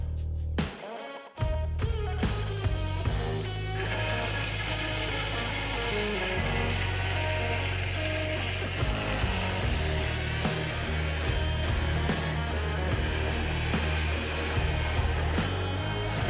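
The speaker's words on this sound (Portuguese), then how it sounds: "Tá cortando uma barra chata dele." A power tool cuts a flat steel bar in a workshop where a car targa roof is being built. It starts with an abrupt burst, then settles into a steady, loud, ringing whine that holds for the rest of the cut.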